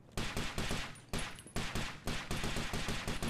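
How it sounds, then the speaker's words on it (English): Rapid automatic rifle fire from a first-person shooter video game comes in several loud, sharp bursts of fast repeated shots with brief gaps between them. No voices are heard. "I think I just emptied a whole 30-round magazine into my reflection."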